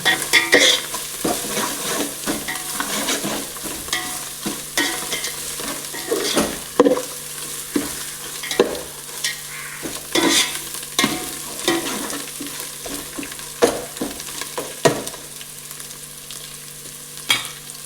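Spices frying and being stirred in a pan while cooking a chicken biryani, a steady close sizzle broken by frequent scraping stir strokes and light utensil clicks, with no talk.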